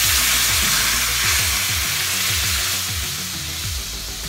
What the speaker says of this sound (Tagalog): Ating kawali, lagay na natin ang ating kakagata,